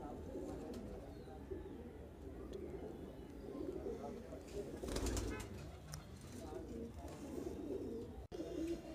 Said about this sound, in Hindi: देखिए फुलसरी कबूतरी भाई